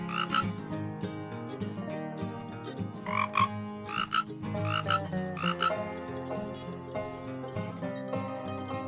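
Cartoon frogs in an animated children's lesson croak in repeated bursts. The croaks are close and clear, coming in quick clusters at an uneven pace.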